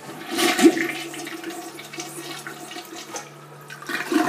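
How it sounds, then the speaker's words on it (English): A toilet flushes close by with a sharp click of the handle, then a steady rushing and gurgling of water that keeps swirling and refilling to the end. "watch how it flushes"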